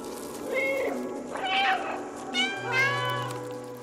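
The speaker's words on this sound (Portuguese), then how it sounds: "Bolinha, ele mia." A cat meows in the video game Stray, a few short plaintive calls spread across the moment, fairly close and clear over quiet game ambience with no talking.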